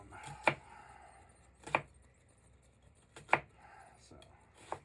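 Sharp knife chopping through large onions on a board, four distinct cuts spaced about a second apart, each a crisp close thunk against quiet background.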